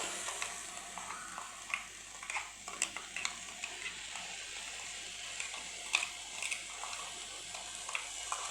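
Ground spice paste with turmeric and onion frying in a pan, a quiet sizzle broken by frequent scraping and clinking stirring strokes in an irregular rhythm.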